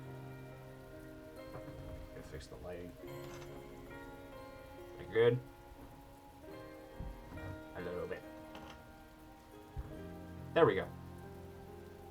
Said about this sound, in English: From outside the window, I can hear the faint sound of water cutting through the air.